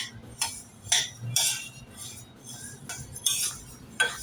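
Rice roasts in a pan as a utensil scrapes and clinks against the metal, giving sharp clatters roughly every half second in an irregular stirring rhythm, close and alone without voices.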